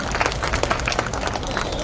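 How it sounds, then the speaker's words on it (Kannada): Loud applause from an audience welcoming a guest at a ceremony, dense steady clapping throughout with faint crowd murmur. "ಇವರಿಗೂ ಕೂಡ ಕೇಳಿ ಬರಬೇಕು ಜೋರಾದ ಚಪ್ಪಾಳೆ."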